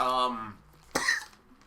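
A short vocal sound, a brief pause, then a single sharp cough close to the microphone, followed by quiet.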